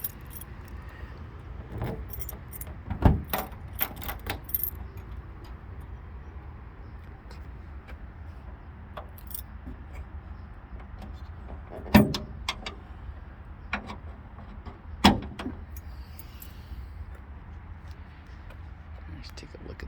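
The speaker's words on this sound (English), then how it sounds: "we're going to open up the boot, trunk, and hood for you." The boot and hood of a 1957 Mercedes-Benz 190SL are opened, bringing scattered clicks, latch clunks and a few sharp thuds over a quiet background as someone talks intermittently.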